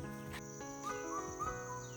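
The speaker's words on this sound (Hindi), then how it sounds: "कितना मधुर आवाज़ है ना गाइस इस चिड़िया का" A bird locally called hattol fagok sings near a village fishing spot, its faint, thin whistled notes drifting over a steady background hum and scattered rustles, soft and somewhat distant.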